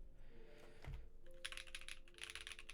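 Fingers type on a Tofu65 keyboard fitted with Invyr Holy Panda switches, a short low thump at the start giving way to two dense bursts of quick clacky keystrokes, close and clear.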